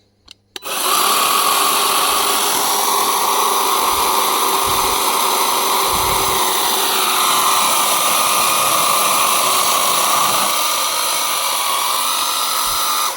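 A high, whining cordless chainsaw motor starts abruptly and runs at full, steady power for over ten seconds, loud and close, with slight shifts in pitch as it bites into a cherry tree trunk.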